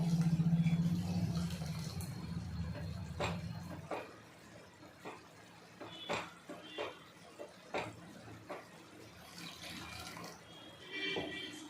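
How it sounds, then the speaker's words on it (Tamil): Water poured from a vessel into freshly ground masala while making chicken curry, a soft gurgling pour at the start, followed by faint scattered clinks and kitchen handling noises at close range. "கொஞ்சம் தண்ணி ஊற்றி கரைச்சிக்கலாம்."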